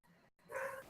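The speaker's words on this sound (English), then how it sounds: "it's like distant bark" A dog gives a short, muffled bark from a distant room, a single faint yelp after a brief gap, with no talking.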